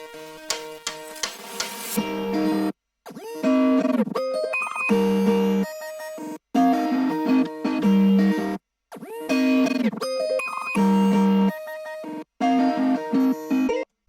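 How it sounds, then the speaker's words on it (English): Choppy, stuttering guitar phrases processed with heavy effects, bright tones that cut off abruptly into silences and restart in glitchy bursts. "I decided to manipulate the guitar a bit so it sounds like this now"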